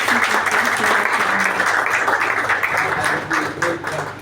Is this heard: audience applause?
yes